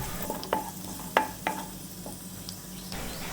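Slit green chilli sautés in a pan for Bhutanese egg ema datshi, a soft sizzle under several crisp spoon scrapes and taps against the pan.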